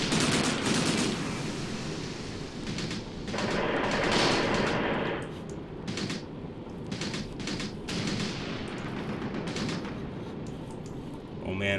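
Sustained gunfire in the tank-battle video game Graviteam Tactics (Shield of the Prophet DLC): dense, overlapping bursts and volleys rumble on without pause, with someone talking over the shooting.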